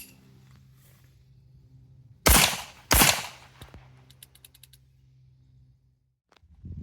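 Super Vel handgun ammunition fired on a range, two loud, sharp, close reports a moment apart, followed by faint metallic clicks and rattles against a low steady hum.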